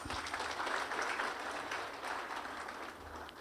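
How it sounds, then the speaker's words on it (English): Clapping from a crowd at a primary school graduation ceremony, a broad rattle of many hands that is fairly faint and distant and fades slightly toward the end. "Round of applause for the board, please."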